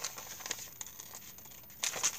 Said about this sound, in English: So let's cut out this guy